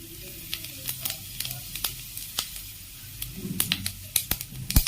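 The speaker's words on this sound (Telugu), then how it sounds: "సో నేను వేసుకున్న నెయ్యి హీట్ అయిపోయింది. దీంట్లో ఫస్ట్ కొంచెం జీలకర్ర, కొన్ని ఆవాలు," Cumin and mustard seeds sizzle in hot ghee for a capsicum paneer curry, a steady crackling hiss punctuated by sharp pops and spits that grow busier toward the end, close and fairly loud.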